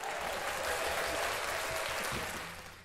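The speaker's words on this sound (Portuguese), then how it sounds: "palmas para a Tainá" An audience claps steadily and densely for a performer named Tainá, a broad wash of applause that holds level and then fades slightly toward the end.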